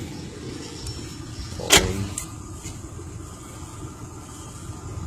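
Engine of a 2001 Ford Explorer Sport running at a steady low idle nearby, with a brief sharp click or knock partway through.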